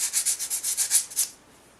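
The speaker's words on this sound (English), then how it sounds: "on this corresponding piece, learning my lesson, just going to sand this" A resin figure model piece is sanded by hand in about nine quick, evenly spaced rubbing strokes, close and crisp, before stopping.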